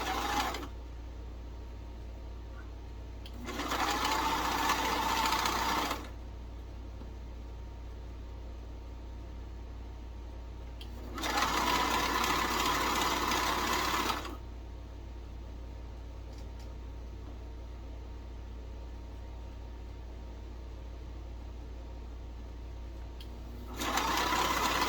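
A sewing machine runs in three steady bursts of a few seconds each, stitching a half-inch seam on a tee shirt, with quiet pauses between runs and no voices.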